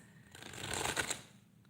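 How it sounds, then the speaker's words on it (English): A deck of tarot cards being shuffled by hand, a close, soft papery riffle rising to a brief burst of flutter for about a second before fading back to quiet. "I just need to really shuffle these cards"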